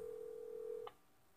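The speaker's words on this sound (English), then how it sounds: "Okay, I'm calling her again." A telephone call tone heard while calling someone, a steady faint tone held for under a second before cutting off with a short click.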